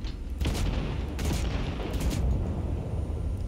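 Tank cannon fire in the video game Cyberpunk 2077, heard as three dull, booming blasts spaced roughly a second apart over a constant low engine rumble, muffled as if from inside the tank.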